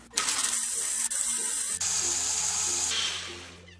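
An electric blender purees tomatoes for a summer smoothie: a short, loud, close burst of motor hum with a sloshing, watery churn that tapers off toward the end, with no voices.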